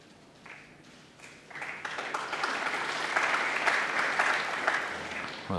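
A crowd of 2,000 at Alexandra Palace applauds during a Masters snooker final session, the clapping building from sparse claps to a loud, sustained ovation that holds steady to the end.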